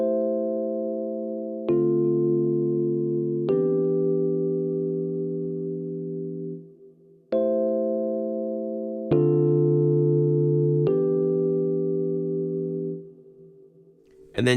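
Soft, sustained melodic chords played through Guitar Rig 7 effects for a smooth R&B beat ring out cleanly, each new chord struck every couple of seconds and held, with no talk.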